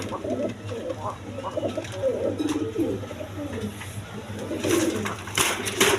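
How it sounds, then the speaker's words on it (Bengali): Red Bombay pigeons cooing close by, soft repeated low coos running throughout, with someone talking over them. "বোম্বাই কবুতর দেখেন রেড কালার বোম্বাই"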